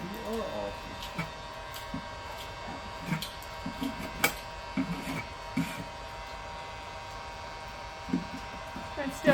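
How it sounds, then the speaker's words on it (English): A heat gun blows with a steady, moderate whoosh for the whole stretch while someone speaks over it, with scattered light taps and clicks from the work. "the heat gun is working"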